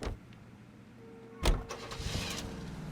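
An Oldsmobile Hydromatic 88 in L.A. Noire, a quiet engine idle that jumps with a sudden loud thump and rev, then settles into a steady running engine, with no talking.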